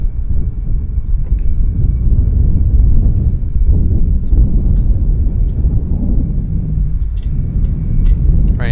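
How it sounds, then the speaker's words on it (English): An Air Canada Jazz airliner bound for Edmonton on the runway at Vancouver airport, a loud continuous low rumble with wind buffeting the microphone throughout. "This aircraft's flying to Edmonton. It's the Air Canada Jazz."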